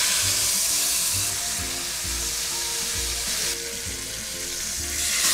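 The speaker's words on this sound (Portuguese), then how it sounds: "eu vou usar um pouquinho de azeite para selar a carne" A beef rump cap sears in a little olive oil in a cast-iron pot, giving a loud, steady, close sizzle and hiss that runs throughout with slight swells.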